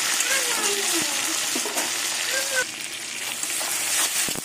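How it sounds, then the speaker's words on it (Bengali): Onion and tomato fry in a pan with a steady, loud sizzle and spatter that runs throughout. A voice talks briefly over the cooking. "টমেটো দিয়ে পেঁয়াজ দিয়ে কিছুক্ষণ আবার ভেজে নেব"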